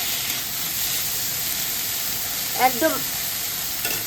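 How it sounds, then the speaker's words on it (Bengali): Shrimp fries and gets stirred in a hot pan while a bharta is cooked, giving a steady close sizzle with scraping stirs; a voice speaks briefly over it. "চিংড়ি মাছটা দিয়ে দিচ্ছি আমি। এবার সুন্দর করে একটু ভেজে নেব।"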